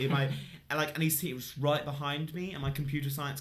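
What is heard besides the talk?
No distinct noise like a dog, phone or traffic.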